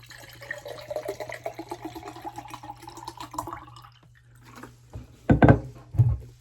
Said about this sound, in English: So let's pour the water in.